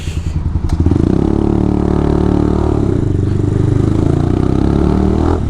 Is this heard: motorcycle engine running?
yes